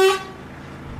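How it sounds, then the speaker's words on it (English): An IVECO S-WAY 460 truck horn gives one short, loud, bright hoot, then only faint low rumble and wind remain. "let's give the horn a hoot"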